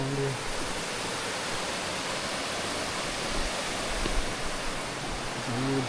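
Continuous roar of a river flowing below an abandoned mountain community in St Thomas, Jamaica, a dense, even rush of water, with brief faint voice fragments at the very start and end.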